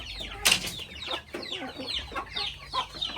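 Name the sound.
native chickens clucking in coop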